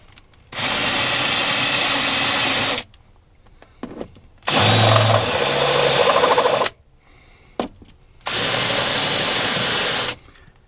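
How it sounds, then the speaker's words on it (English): Power drill with a countersinking bit enlarging screw holes in a plate for a diesel air heater install in a motorhome, three loud, steady whirring bursts of a few seconds each, separated by quiet pauses with faint handling clicks. "So I'll just countersink these a little bit more."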